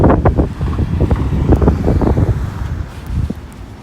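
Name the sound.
wind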